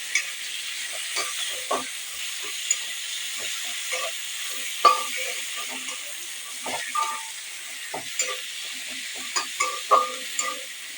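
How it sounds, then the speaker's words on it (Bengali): Chopped onions fry with cumin in a pan, giving a steady soft sizzle. A spoon scrapes and stirs at irregular moments, close by, with no talk. "পেঁয়াজটাকে দিয়ে ভালো করে ভেজে নেব।"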